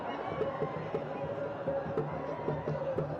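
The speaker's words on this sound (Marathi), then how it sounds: "मराठा बांधव जल्लोष करतात" Maratha protesters celebrating after a fast was ended, a dense crowd hubbub with cheering and chanting voices carrying on steadily, with faint rhythmic beats under the noise throughout.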